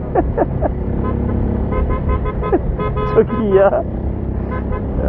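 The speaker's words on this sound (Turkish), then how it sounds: "Araba korna. Bir de benim kornaya bakın." A car horn gives a series of short toots over steady traffic rumble, with a voice speaking briefly between them, on a road through Ordu villages, Turkey.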